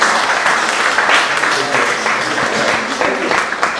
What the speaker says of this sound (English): Please give a round of applause to Djay.